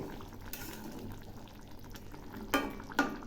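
A spoon stirs a vegetarian soybean curry with ghee in a pan, a quiet, low simmering sizzle with two short scraping strokes near the end.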